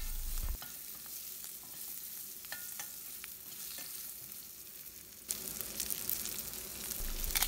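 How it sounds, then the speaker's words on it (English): Small onions and garlic, cut into small pieces, frying in a pan for a bottle gourd chutney: a continuous close sizzle with occasional stirring clicks, growing louder and brighter in the last couple of seconds, no talking. "Cook small onions and garlic for minimum 3 minutes."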